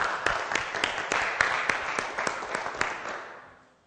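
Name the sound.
church audience applauding pastor Gregório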